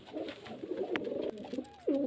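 Murshidabad Girbaj line pigeons coo in a loft, a few soft, close calls repeating in an uneven rhythm with a louder coo at the end.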